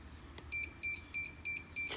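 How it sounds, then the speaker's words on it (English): Five evenly spaced electronic beeps from a mug heat press timer signalling the countdown has ended, clear and close, each a steady high tone with short gaps between. "now that it's hit 0 and it's beeping, it's letting me know that it's done"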